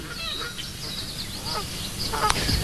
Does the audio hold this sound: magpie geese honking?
yes